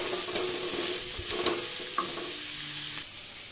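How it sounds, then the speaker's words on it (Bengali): Salted vegetables for white sauce pasta fry in a pan, making a soft steady sizzle as a spoon scrapes and stirs them up close, with the frying noise dropping off near the end. "দিয়ে এটাকে ভালো করে নাড়িয়ে ভাজবো"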